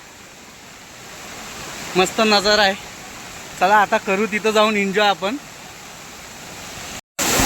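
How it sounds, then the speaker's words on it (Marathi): The JP waterfall pours in a steady broadband rush that carries on throughout, with people talking briefly over it. "धबधबा बघा तुम्ही समोरच वाहतो आहे"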